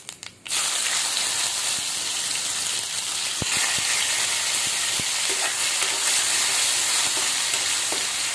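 Garlic and cumin seeds sizzle steadily in hot oil after a brief sharp splash at the start, a close, continuous bright crackle with occasional spoon taps.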